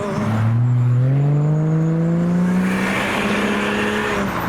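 A Toyota Supra drives past at a Japanese car show, its engine climbing in pitch as it accelerates loudly nearby, then fading into a broad rush as it moves away.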